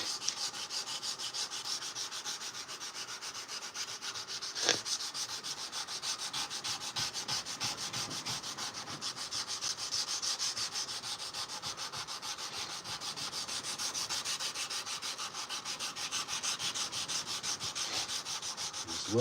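Steady, continuous hand sanding of a steel knife blade with 120-grit paper, blending the secondary bevel along the cutting edge; a close, even scratching rub with repeated strokes and one brief knock near the middle.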